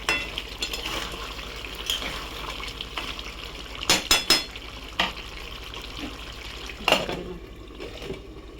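Chicken curry being stirred in a pan after garam masala and pepper go in, soft scraping and sizzling with a few sharper clinks of a spoon against the pan, close and fairly quiet.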